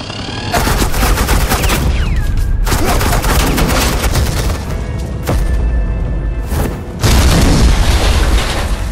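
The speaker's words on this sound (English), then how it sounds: "suppressing fire." Sustained suppressing gunfire from Agent Quinn in the Batman Telltale video game, a loud dense barrage of booming shots with brief lulls, ending in another heavy burst.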